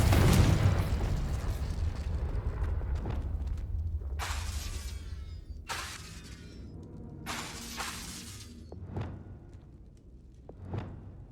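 A Confringo fire spell explodes in the Hogwarts Legacy video game during a fight with trolls: a loud opening blast fades into rumbling, followed by several bursts of crackling, shattering debris and a few sharp later impacts.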